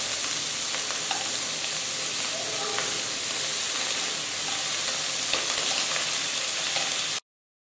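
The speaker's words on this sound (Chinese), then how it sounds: "煎的时候记得一定要多翻面哦。" Bacon-wrapped enoki mushroom rolls, pinned with toothpicks, fry slowly over low heat in a pan with no oil. A steady, close sizzle and hiss carries on without pause, then cuts off abruptly.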